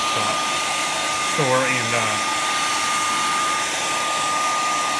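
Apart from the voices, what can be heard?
hair dryer drying damp shoes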